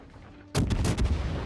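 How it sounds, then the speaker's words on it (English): Heavy warship main guns fire in World of Warships, a sudden loud blast that cuts in partway through and rumbles on with overlapping booms and a deep, sustained roar. "So I'll take shots on the Samagi because she is the only ship in range."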